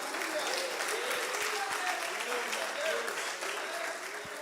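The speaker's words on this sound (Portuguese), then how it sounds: "desocupe as mãos e aplauda o Senhor Jesus" Church congregation applauding together, a steady broadband wash of clapping that holds at an even level for several seconds, with some voices mixed into the crowd noise.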